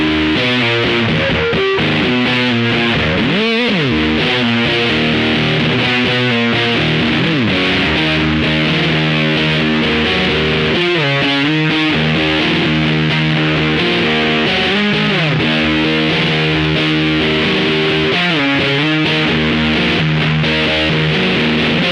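Distorted electric guitar through a Bighorn fuzz pedal with a thick, fuzzy tone plays sustained chords and bending notes, loud and continuous with no voices.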